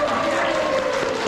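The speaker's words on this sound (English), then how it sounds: "Let's give him a round of applause." A room of people at a casual coffee-chat gathering claps for a birthday, a short steady burst of applause with a faint tone and murmuring voices mixed in.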